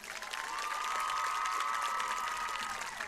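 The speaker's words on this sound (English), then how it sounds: "a huge round of applause" Crowd at a high school homecoming football game applauds and cheers for the homecoming queen, a broad sustained roar of clapping with a steady held tone over it.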